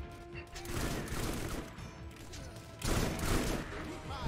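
Hyperion Butcher shotgun in Borderlands 1 firing in a dense, continuous barrage of shots, loud and close, with a heavier burst near the end.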